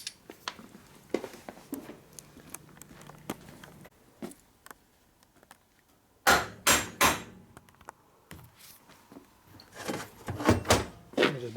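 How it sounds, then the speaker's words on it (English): Sharp, separate hammer strikes ring out on a motorcycle engine part during assembly of an 88ci Evo motor, first scattered and fainter, then a loud cluster of closely spaced blows. "Let me just beat that with a big hammer"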